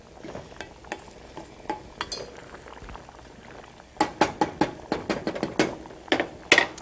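A pot of rice in water comes toward the boil, with quiet bubbling and a series of sharp knocks and clinks from a spoon against the pot, the clatter growing denser toward the end, with no talking.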